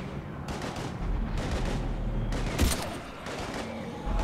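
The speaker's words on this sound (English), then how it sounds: "We're taking heavy fire." Sustained gunfire in the Mass Effect 3 video game, a dense battle fusillade of repeated shots with bursts and a sharp louder blast partway through, loud and continuous over game sound effects.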